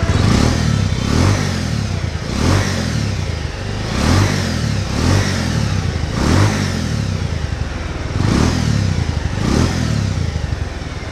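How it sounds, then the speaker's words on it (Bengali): Exhaust of a Bajaj Pulser 150cc motorcycle idling and being revved in repeated blips, about five throttle pulses rising and falling over a steady loud engine rumble, close to the silencer, with no talking. "সো এরপরে আমি একটু সাইলেন্সারের সাউন্ডটা শোনাবো।"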